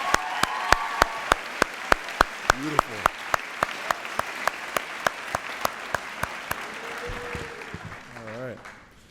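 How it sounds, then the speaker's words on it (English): Graduation audience applause for the Cook twins at the Eleanor Roosevelt High School Class of 2022 ceremony: steady crowd clapping with one loud nearby clapper beating a sharp regular rhythm on top, a brief spoken word and cheers mixed in. "One more round of applause for the Cook twins."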